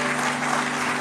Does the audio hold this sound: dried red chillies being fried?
no